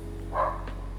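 A single short dog bark, moderately loud and somewhat distant, heard inside an abandoned shopping mall in China, against a low steady background hum.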